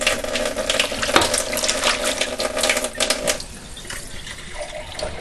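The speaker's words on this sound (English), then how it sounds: "I'm going to take some filtered water, not a whole lot. I'm just going to fill this up." Filtered tap water runs into a container in a kitchen during corned beef and cabbage preparation, a steady close pouring splash for about three seconds before fading to quieter kitchen sounds.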